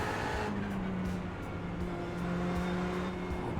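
Race car engine droning steadily in a racing video game at Sebring, with sustained tonal whine and a shifting pitch, continuous and fairly loud with no talk.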